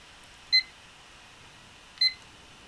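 An auction countdown timer gives two short, high electronic beeps about a second and a half apart, clear over a quiet background.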